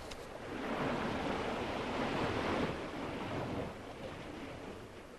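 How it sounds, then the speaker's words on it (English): Ocean waves wash steadily onto a shore where the water keeps stirring up sand, a continuous broad rushing roar that swells slightly midway and then eases, with no voices. "the waves are constantly stirring up the sand"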